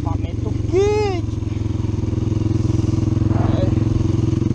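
Motorcycle fitted with an aftermarket exhaust kit idles steadily on a dirt trail, its low engine rumble continuous and close throughout, while a brief voice cuts in near the start.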